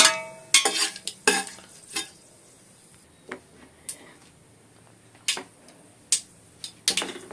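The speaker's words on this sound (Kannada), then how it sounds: "ಇವಾಗ ಇದು ಎಲ್ಲ ಫ್ರೈ ಆಗೋವರೆಗೂ" Food fries in a pan on a home stove while a utensil stirs it, giving intermittent close scrapes and clacks over a faint, steady sizzle.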